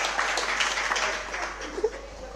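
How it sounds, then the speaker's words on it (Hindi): Brief audience clapping at a religious discourse gathering, a short burst of applause mixed with murmuring crowd voices. "एक बार इनके लिए जोरदार ताली बजा दो भोपाल के लिए"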